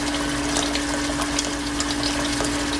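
Cold water pouring steadily into a heavy-bottomed stock pot holding soup bones, a continuous close rushing and splashing fill with no talking.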